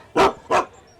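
Two loud, close dog barks in quick succession, sharp and alone with no talk over them.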